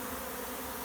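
Bees swarming around the back of a wooden colony box hum in a steady, dense buzz, close and continuous with no voices.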